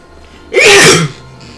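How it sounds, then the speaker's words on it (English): A single loud, sharp sneeze bursts out after a quiet moment, brief and close, then fades back to low background hum. "Damn sneeze."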